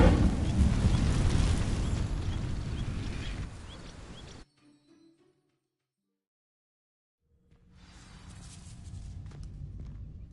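Incendio fire spell from Hogwarts Legacy setting dry vines alight: a loud roaring whoosh of flame for about four seconds, cutting to near silence before burning crackle and ambience return.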